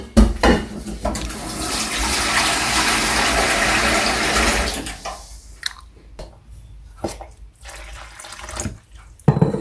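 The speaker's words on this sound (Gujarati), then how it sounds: "થોડું પાણી લઈને બાંધી દઈએ એને" Water is poured from a vessel into roasted flour to knead dough for stuffed karasla. A steady, close splashing stream runs for about five seconds, then gives way to a few soft knocks and clatters.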